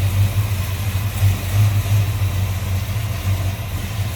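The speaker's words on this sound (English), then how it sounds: "See how smooth that engine's running." A 1967 Chevrolet C10 shortbox pickup idles smoothly with headers, an aluminum intake and carburetor, a steady low rhythmic engine pulse heard close and loud, with no talking.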